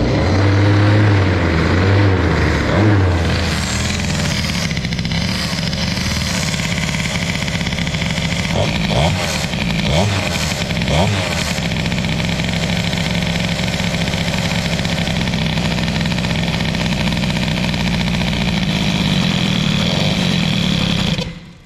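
Stock Airsal CPI 70 moped engine, running with an odd, overly rich carburetion, blips its throttle at first and then settles into a steady, loud, close idle that carries on uninterrupted with nobody speaking.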